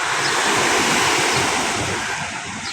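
Ocean waves crash against shoreline rocks on a beach outing at Ilijan, Batangas, a loud continuous roar of surf with wind rumble and no pauses.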